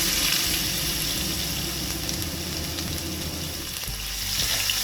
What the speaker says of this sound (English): Fry until the garlic turns golden brown